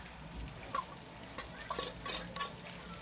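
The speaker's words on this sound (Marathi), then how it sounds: "या कांदे शिमला मिरचींना फुल गॅसवरच आपल्याला छान असं परतून घ्यायचं आहे" Capsicum and onions sautéing in hot oil over a full flame for a spicy Maharashtrian bhaji, with soft continuous frying hiss and a few scattered stirring clinks and scrapes, quiet and close.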